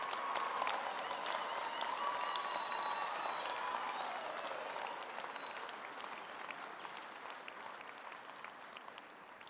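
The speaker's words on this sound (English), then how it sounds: "let us give our graduates, a big round of applause for their hard work and perseverance" A graduation ceremony audience at a faculty of veterinary and health sciences applauds its graduates with sustained, fairly distant crowd clapping that slowly eases in intensity. Faint crowd sounds run underneath.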